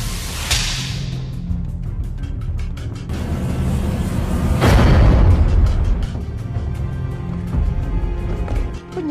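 Fireworks blasting through a break-in scene in an action film: a sharp crack early on, then a dense run of booms and crackling bangs swelling to a heavy burst near the middle, loud and continuous with rumbling low end.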